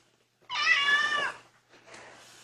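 A kitten gives one clear, drawn-out meow close by, followed after a brief pause by a fainter, breathier second cry.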